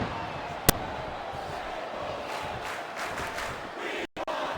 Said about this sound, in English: This sellout crowd just can't get enough of these superstars.